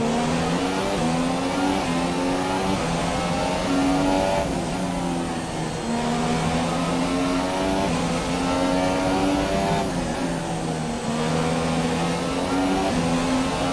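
A McLaren Honda MCL32 Formula 1 car engine in the F1 2017 racing game at the Italian Grand Prix screams loudly and continuously. Its pitch climbs repeatedly through the gears, with brief dips at the shifts, and no voice is heard.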